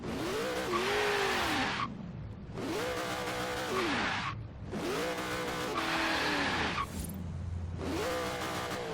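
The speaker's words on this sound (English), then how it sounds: "basically let us do massive burnouts" A supercharged HSV GTS in Forza Horizon 3 holds long, loud revving burnouts: four sustained high-rpm engine wails, each rising and falling, separated by short dips, with a faint squealing of tyres beneath.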